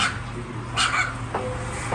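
A puppy lets out a few short whimpers and yips, sharp and fairly close, over a low steady background hum.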